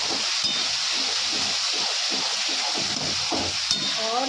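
Spiced jackfruit kebab mixture stirred in a hot pan, a steady close sizzle and hiss with soft scraping strokes repeating through it, fairly loud and without talk.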